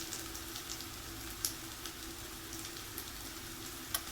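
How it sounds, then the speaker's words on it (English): Vegetables and seasonings stir-fried in a pan give a steady, quiet sizzle with a few soft scrapes and taps scattered through it. No one speaks. "Stir fry these veggies with the seasonings."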